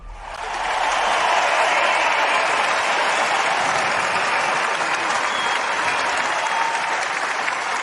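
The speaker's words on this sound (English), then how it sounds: "A little bit more applause." A large audience applauds in a sustained, dense wash of clapping that swells quickly and stays loud and even throughout, with no talk on top.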